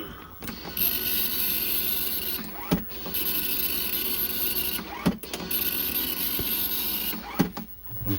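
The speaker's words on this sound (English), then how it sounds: "The printer does this." A Commodore 64 printer runs a print pass, a steady close mechanical whir with sharp carriage clunks and pauses roughly every two seconds.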